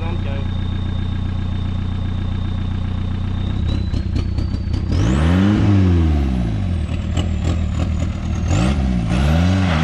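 A Volkswagen Golf 3 GT 110 engine drones steadily and then rises into a climbing acceleration pull with repeated sweeping revs. The sound is loud, close and continuous.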